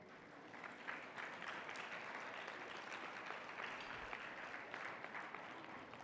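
An audience at an academic caucus lecture applauds steadily, a continuous wash of many hands clapping for several seconds, heard faintly and at a distance.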